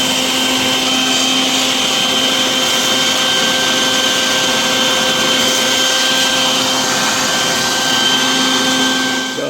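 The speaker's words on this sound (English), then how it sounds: "Vacuum all the dust and debris from off in the windage tray area" A vacuum cleaner runs continuously and loud up close, sucking dust and debris from the engine windage tray area of an Audi TT, a steady whining drone with a high tonal hum.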